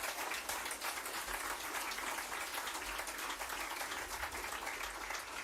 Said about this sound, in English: So a big round of applause for all of the candidates.